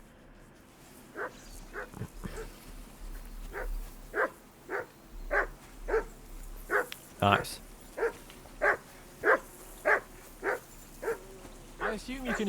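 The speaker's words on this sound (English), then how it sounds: "I assume you can hear that damn dog of yours barking." A dog at an open-air camp in Kingdom Come: Deliverance II barks in a steady run of evenly spaced, moderately loud woofs, with a voice briefly heard.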